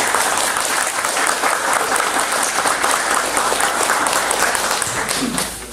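Children at a church worship service clapping together, a steady, full round of applause lasting several seconds before tapering off at the end.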